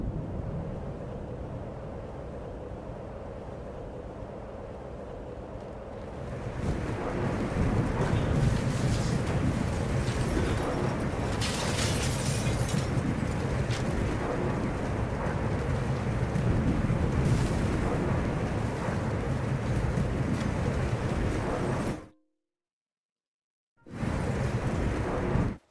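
A volcanic eruption in the video game Teardown: a low steady rumble swells into a loud, dense roaring whoosh that continues, briefly cuts to silence, then resumes.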